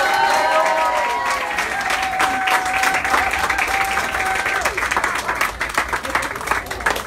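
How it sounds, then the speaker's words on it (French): A crowd applauds steadily throughout at a Marseille rally with striking McDonald's workers, dense continuous clapping with some cheering and a voice or two over it, fading slightly toward the end. "On fait un tonnerre d'applaudissements encore."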